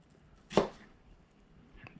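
A chef's knife strikes a cutting board once, a sharp close knock, followed by a much fainter tap, in a rice pilaf cooking class.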